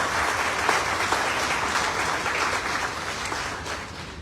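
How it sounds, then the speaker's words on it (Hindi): Dense, sustained applause from a large audience at a public gathering, steady and loud throughout and easing slightly toward the end, with no talk over it. "तो एक बार आप सबके लिए जोरदार तालियां हो जाए"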